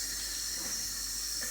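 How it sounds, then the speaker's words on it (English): Steam leaks from a coffee machine with a faulty pressure stat, giving a steady close hiss that holds evenly throughout with no talking. "you can probably hear the steam leaking out at the moment"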